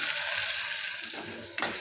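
Tomatoes and seasoning for mutton paya sizzle in a hot pan while a spoon stirs them through, a steady frying hiss with a soft scrape and clack near the end.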